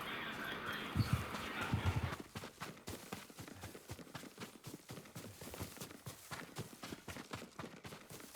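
Horse hooves clip-clop in the Ghost of Tsushima video game, a steady rhythmic run of hoofbeats at moderate distance following a louder opening with low thuds, with no talk over them.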